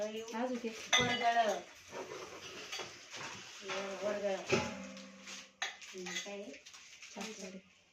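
Steel ladles and assorted kitchen utensils from a new 30-piece construction-worker utensil set clink and clatter in short bursts under near, ongoing talk.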